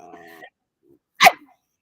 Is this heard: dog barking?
yes